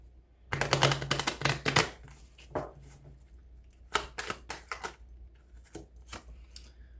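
Tarot cards are shuffled up close in quick bursts of crisp riffling and snapping, with short pauses between rounds.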